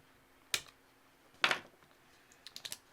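Cutters snip parts off an Axial Ryft RC crawler during a teardown, giving two sharp, close clicks about a second apart, followed by a few faint light ticks in a quiet room.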